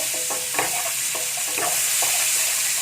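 Shrimp heads sauté in butter and a little cooking oil, a close continuous sizzle with several short scraping stirs spaced through it.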